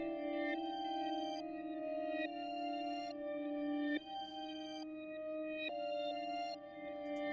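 Reversed and pitch-shifted, the melodic sample plays on its own as soft, sustained synth tones. The notes shift every second or so, and each one swells rather than decays.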